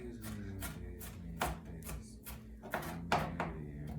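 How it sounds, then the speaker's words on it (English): A knife chops onions into small pieces on a board, giving several sharp, separate cuts at an irregular pace over low steady background noise. "Finish cutting these onions up into little pieces."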